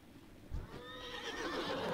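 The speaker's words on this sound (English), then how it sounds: "Okay, let's steal a horse." A horse in World of Warcraft gives one long, close whinny after a soft thump, rising then trailing off over about a second with light hoof sounds beneath.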